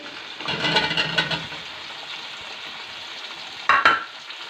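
Cauliflower fries in ghee with cumin, a quiet sizzle beneath bursts of stirring and clattering as pieces are turned, close, with a sharper scrape near the end and no talk.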